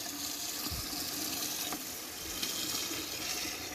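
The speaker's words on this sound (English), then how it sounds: "let's get the hose going so I can fill this up for another round" Garden hose running water into a container during an airlift pump experiment, a steady gushing, splashing flow throughout, close and fairly loud with no talking.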